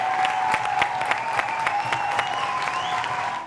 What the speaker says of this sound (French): le promoteur qu'on va applaudir très fort